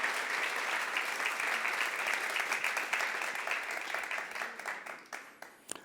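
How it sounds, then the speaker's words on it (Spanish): A full-house evening audience at Alfa Omega claps loudly and steadily throughout, a dense wash of applause that thins slightly toward the end, with no talking over it. "Quiero que se den un buen, fuerte aplauso por estar aquí con nosotros esta noche."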